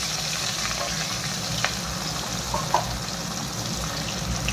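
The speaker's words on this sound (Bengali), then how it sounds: "মাছগুলো ভেজে নিই এবার এক এক করে।" Fish pieces frying in hot oil in a wok for a fish curry, a steady close sizzle with occasional brief pops and crackles, no talking.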